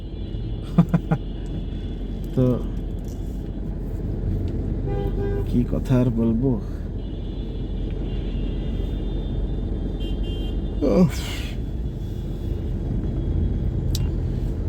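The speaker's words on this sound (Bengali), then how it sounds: "এবার পড়ে গেলাম জ্যামের মহাসাগরে।" In a night traffic jam in Dhaka, stuck behind a bus near a U-loop among rickshaws and CNG auto-rickshaws, several short car horn toots sound at intervals over a steady engine rumble while someone talks.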